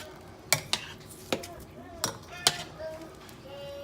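Ingredients for chicken soup being stirred in a pot: a few sharp clinks and knocks of a utensil against the pot, spaced irregularly over a quiet background with faint low tones.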